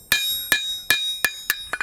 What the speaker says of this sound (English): You're gonna take the edges, hammer them a little bit, and create a nice profile.